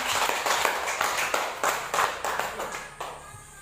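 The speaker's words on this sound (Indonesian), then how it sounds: "luar biasa, tepuk tangan" Classroom audience clapping for a student group's presentation, a quick run of distinct handclaps at moderate loudness that thins out near the end, with no talking.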